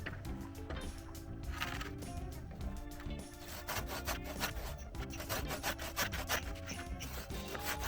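Softwood boards are cut with rapid, rhythmic rasping saw strokes that run continuously and close.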